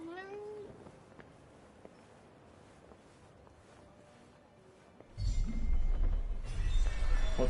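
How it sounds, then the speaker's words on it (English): A cat meows in the video game Forspoken, a rising mewing call at the start that sits over quiet ambient game sound, which later gives way to louder rumbling noise. "A cat."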